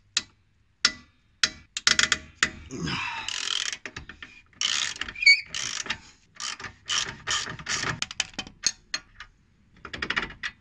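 A ratchet wrench undoing a screw on a car's coilover spring, giving rapid metallic clicking bursts in irregular runs with brief pauses, close and fairly loud, with no voices.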